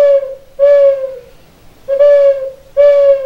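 A whistle imitating a great horned owl, clear and loud, in four steady tonal hoots with short pauses between.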